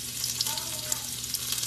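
Garlic sizzles in a hot pan for squid adobo, a dense, close crackle with soft popping bursts over a low steady hum, no talking.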